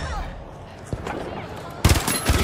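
Video game gunfire cracks in short bursts, a single shot early, then a loud close volley near the end over steady background game noise.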